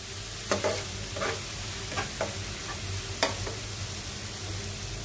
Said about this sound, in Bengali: হাফ চামচ হলুদ, হাফ চামচ মরিচ, হাফ চামচ বরস এবং পরিমাণ মতো লবণ দিয়ে মশলাটাকে ভালোভাবে কষিয়ে নিব